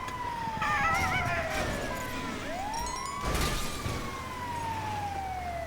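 Siren wailing from an ambulance in a video game, its rising and falling tones sweeping loudly over a busy game soundscape for several seconds, with no talk.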